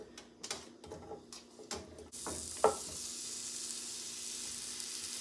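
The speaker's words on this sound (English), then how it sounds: "while my kielbasa is frying up" A few clicks and clatters, then a steady sizzle of kielbasa sausage frying in olive oil in a skillet, close up and fairly quiet.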